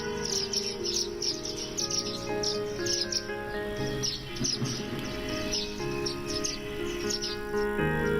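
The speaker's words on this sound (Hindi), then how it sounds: "जयंत के इस बगीचे में चिड़ियों को हर चीज मिलती है।" Small birds chirp and twitter repeatedly in a 1200 square foot home garden used as a bird sanctuary, a busy overlapping chorus of high calls with insect-like trilling beneath, close and steady, without speech.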